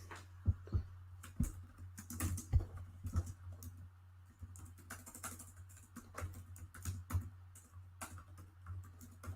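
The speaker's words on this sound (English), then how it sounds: "I'm typing something right now" Quick bursts of typing on a computer keyboard, uneven clusters of light clicks and taps up close, with short pauses between runs and no voices.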